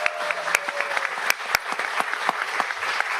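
Scattered clapping from a small audience at a moot court competition final round, sparse individual hand claps standing out against faint room murmur, moderate in level.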